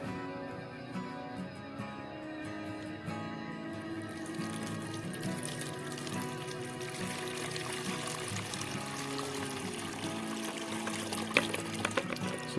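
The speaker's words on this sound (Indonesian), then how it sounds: "ini kita akan masukkan ke dalam botol sambil disaring teman-teman" Liquid from crushed betel leaves poured through a strainer into a bottle, a steady, soft trickling and splashing that runs continuously at low volume with no talking.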